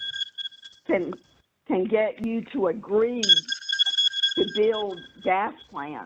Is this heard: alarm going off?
yes